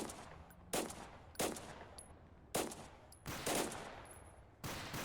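Gunfire in the video game Total Conflict Resistance: five or six loud, sharp shots spaced irregularly over a low, steady background rumble, with no talking.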